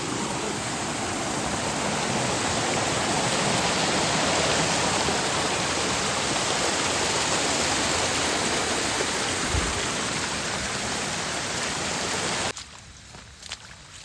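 River floodwater rushing past, a dense, steady roar that fills nearly the whole stretch before cutting off abruptly near the end, leaving quieter scattered sounds.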